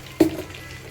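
Mustard and fenugreek seeds hit hot oil in a pan, giving one sharp sizzling burst that quickly settles into a faint, steady crackle, close by with no talking.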